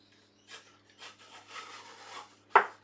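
A wooden dovetail piece is fitted into a keepsake box. Several short, soft scraping rubs come close together, then a sharp wooden knock as it seats, all quiet and near.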